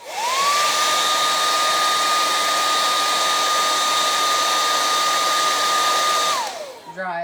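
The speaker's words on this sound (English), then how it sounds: "Dry it with the hairdryer really good" Hair dryer blowing on a painting of a pig, a loud close steady whir that spins up at the start, holds its pitch, then winds down near the end.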